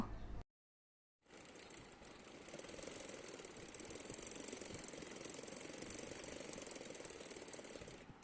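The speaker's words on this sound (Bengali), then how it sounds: "তো এখন আমি এতটুকু পর্যন্ত আগে সেলাইটা করে নিব।" A sewing machine runs in one continuous steady whir, stitching the side pocket seam of a kurti, close and alone after a brief silent gap at the start.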